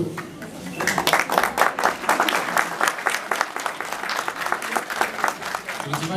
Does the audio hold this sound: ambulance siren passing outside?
no